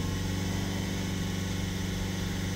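Renault Espace engine, with DPF and boost faults, held at raised revs: a steady, dense, loud droning hum with a constant throb and no change in pitch, nearby and uninterrupted, with no one talking.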